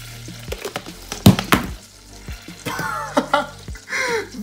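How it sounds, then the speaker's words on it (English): Butter melting in a pan for Halloween appetizers, giving intermittent close sizzles and crackling pops with stirring scrapes, growing busier toward the end. "First, want to start by melting a few tablespoons of butter."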